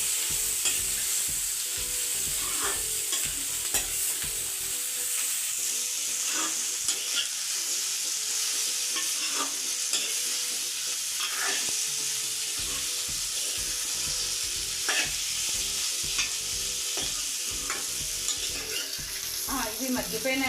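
Pieces of bitter gourd fry in a pan, giving a steady, close sizzle with the scrape of stirring that repeats throughout. No one speaks.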